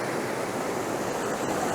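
Running water at the Glencoe waterfall, a steady, loud, close rush of churning water with no break.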